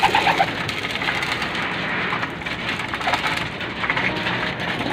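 Hungry pigeons coo softly and repeatedly at feeding time, a low murmuring chorus close by over a busy background of rustling and pecking at scattered feed.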